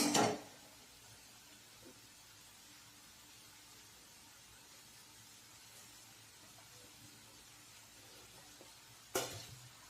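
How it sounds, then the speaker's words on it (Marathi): Chopped coriander being stirred into a potato masala dosa filling in a pan: a soft, steady scraping hiss throughout, with a louder clatter of the spoon at the start and again near the end, no voices. "कोथिंबीर व्यवस्थित मिक्स करू।"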